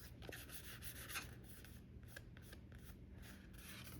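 Old cardstock handled up close, giving a steady dry rustling and scraping with soft papery crinkles and a brief sharper crackle near the start, fairly quiet and with no voices.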